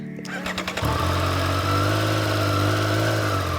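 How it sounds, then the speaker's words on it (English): A Triumph Street Triple R motorcycle engine cranks briefly and catches, then settles into a steady, close, loud idle with a low throb. "First, let's start the bike."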